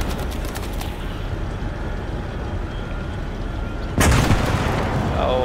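A big gun fires in Call to Arms: Gates of Hell, a single heavy blast that cuts in loud and close amid a low rumbling battlefield with scattered distant gunshots, its echo ringing out afterward.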